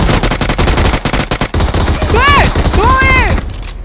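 Rapid, close gunfire from a video game rattles out in tight automatic bursts with a sharp rhythm throughout, and a few brief voiced exclamations break in near the end.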